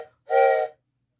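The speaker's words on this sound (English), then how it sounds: "It's a train whistle." A single short blast from a handheld train whistle once owned by a Burlington Northern railway worker, a breathy harmonic chord held for about half a second, close and clear with silence around it.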